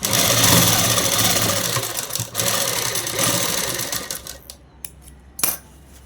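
A sewing machine runs steadily while stitching the shoulder seams of a child's frock, a loud continuous mechanical whir for about four seconds that then stops, leaving a few faint clicks and handling knocks.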